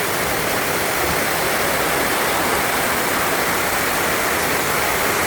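Heavy rain pouring with runoff water rushing downhill, a loud, dense, unbroken roar of water and rain that stays constant throughout.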